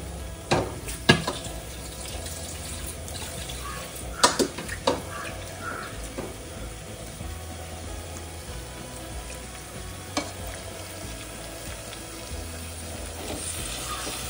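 Prawns frying in a pan over a low flame give a steady soft sizzle, with a few sharp clinks and stirring scrapes scattered through it. No one speaks.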